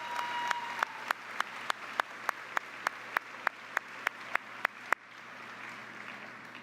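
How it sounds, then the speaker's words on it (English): Audience applause at a high school graduation ceremony, heard as a steady wash of many hands clapping with sharp, regular louder claps standing out about every quarter second before it thins and fades. "Let's give all those that have been here to help you a round of applause."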